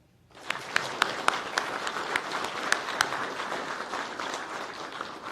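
Audience at a police academy graduation in a classroom breaks into sustained applause, with several loud nearby claps standing out over the steady crowd clapping.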